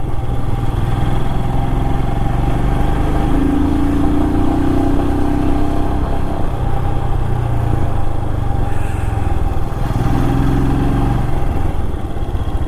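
A motorcycle engine idles on a narrow mountain road in Uttarakhand's Chamoli district, a loud steady mechanical drone that holds throughout with a few slight swells and no talk.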